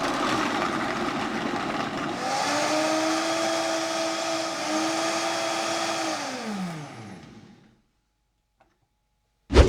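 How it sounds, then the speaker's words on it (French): A countertop blender whirs steadily, blending soaked nuts with cinnamon and water, then spins down and falls silent, with a brief clatter at the very end. "Je mixe."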